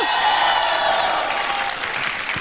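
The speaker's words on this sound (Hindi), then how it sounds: "एक बार फिर से जोरदार तालियां" Loud, dense applause from a television studio audience after a dance performance on a celebrity dance competition show, sustained and steady with faint crowd noise, easing slightly toward the end.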